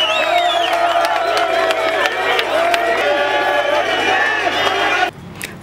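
A crowd at a political rally in Lubumbashi roars with acclamations, a dense mix of shouting, cheering and whoops with voices rising above it. The noise stays loud and continuous, then cuts off abruptly near the end.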